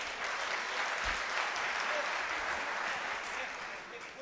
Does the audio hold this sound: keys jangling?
no